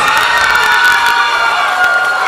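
A crowd at a battle-of-the-bands night cheers and whoops loudly for the winning band, with high shouts and scattered claps in a dense, sustained roar.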